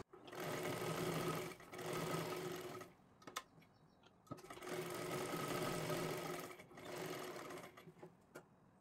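A sewing machine runs in sustained bursts while double-stitching a tucked blouse, a steady close whirring that stops and restarts several times with brief quiet gaps between runs.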